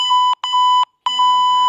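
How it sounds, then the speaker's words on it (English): A workout timer alarm goes off at the end of a Pilates session with three loud, steady electronic beeps separated by short gaps, and a voice begins talking over the last beep. "that was my timer saying it's 30 minutes"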